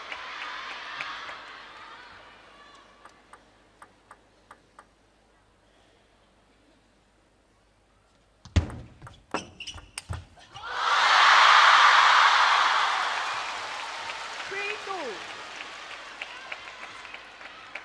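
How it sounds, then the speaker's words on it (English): At a WTT Champions Chongqing 2025 men's singles semifinal between Wang Chuqin and Tomokazu Harimoto, a few sharp ball and paddle knocks give way to a loud swelling roar of cheering and applause from the arena crowd, which then fades under continued crowd noise. "the noise of the crowd just drowning everything out"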